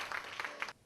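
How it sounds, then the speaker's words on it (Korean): Brief burst of audience clapping as a university drama club's student play opens on stage, a dense patter cut off abruptly before the end. "박수 소리와 함께 시작된 연극"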